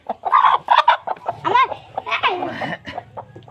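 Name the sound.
hen clucking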